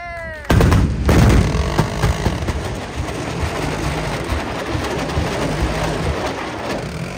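Thai army artillery guns fire at a live-fire demonstration at Khao Phu Lon, opening with one loud close blast that rolls off into a long rumbling echo and distant crackle.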